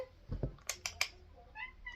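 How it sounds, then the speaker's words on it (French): A small cat meows indoors in a home where card readings are held, giving a couple of short, fairly close cries over a quiet room with a soft thump or two. "Il a réussi à rentrer, le petit chat."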